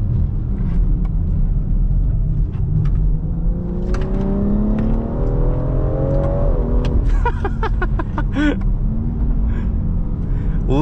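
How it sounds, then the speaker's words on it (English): A 2020 BMW X3 M Competition SUV revs and accelerates loudly, with sharp exhaust pops and crackles near the end over a steady low rumble. "Little bits of backfires and burbles from the exhaust there"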